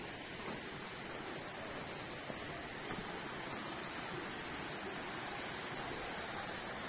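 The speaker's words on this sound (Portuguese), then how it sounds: "tem uma cachoeira, pessoal" Waterfall inside a rock-cut gold mine in Ouro Preto, a steady even rush of falling water filling the space, soft and unbroken throughout.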